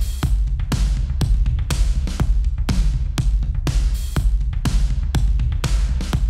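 A soloed drum kit played through a Sound City Studios room reverb, with punchy kick and snare hits in a steady groove, each ringing out into a roomy tail, loud and continuous with no talking.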